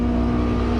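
A boat engine labours while stuck in water and mud on a river trip near Lake Maracaibo in Venezuela, giving a steady, loud, strained drone with a constant low tone and no talk over it.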